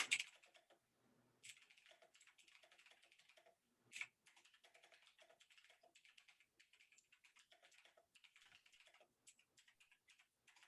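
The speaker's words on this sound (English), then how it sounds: "Here, I'll type it up." Typing on a computer keyboard: close, crisp key clicks in quick irregular runs with short pauses between them, in a very quiet room.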